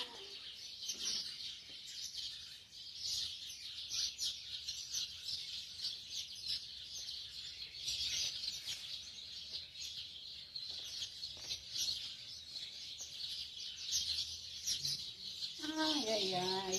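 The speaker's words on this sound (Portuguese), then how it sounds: "Tem hora que a gente para, eu só fico ouvindo os passarinhos." Small birds chirp and tweet continuously outdoors in a quiet countryside setting, a dense high twittering chorus with a brief clucking fowl-like call near the end.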